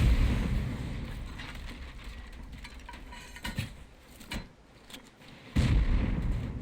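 Rockets explode during a raid in the Rust video game, a series of heavy booms and bursts with scattered impacts between them and a loud blast near the end, heard without talk.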